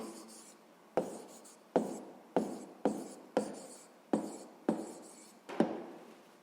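Pen writing an answer in a school notebook: eight crisp strokes at a brisk, even rhythm, each a sharp scratch fading quickly, close up and quiet, with no voices.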